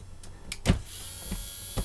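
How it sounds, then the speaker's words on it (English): Electric motors in a repaired Breville robot toaster whir close by in short bursts, with several brief mechanical clunks and a steady high motor whine as the mechanism runs toward its end stops. "we have two motors motoring. They're going to continue motoring till they reach their end stop."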